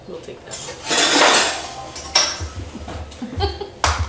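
Kitchen utensils rattling and clattering as someone rummages through a drawer for a whisk, close metallic jangles and clinks in several bursts, with a few sharp knocks.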